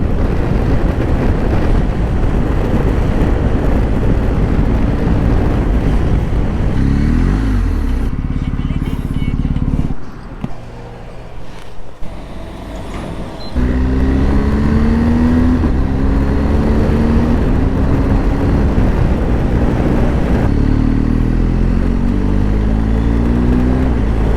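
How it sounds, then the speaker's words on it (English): A BMW R 1250 GS Adventure motorcycle ridden in dynamic mode roars up through the gears with rising engine pitch and shifts, briefly easing off midway before accelerating hard again, loud and close with wind noise. "I love riding this bike in the dynamic mode because that's the most powerful mode for the bike"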